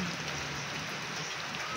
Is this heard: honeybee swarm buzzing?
no